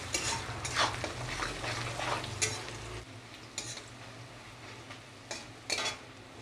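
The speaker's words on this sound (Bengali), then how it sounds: "এটাকে ভালো করে ভেজে নেব রসুন আর পেঁয়াজটাকে" Garlic and onion with a little salt and turmeric sizzle softly in a pan while a utensil stirs and scrapes against the metal in irregular strokes, close by with no talking.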